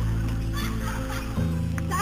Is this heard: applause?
no